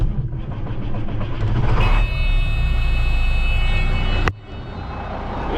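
A truck engine cranks over and catches on a farm while selling corn, settling into a loud steady idle with harmonic tones before a sharp click and a drop in level near the end.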